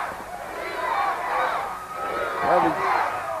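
A wrestling arena crowd at a 1999 event roars and chants in swelling waves, a dense, distant mass of voices rising and falling with no single speaker standing out.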